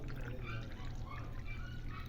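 Water pours steadily into a glass for homemade carrot juice, a continuous close trickle and splash with no talking.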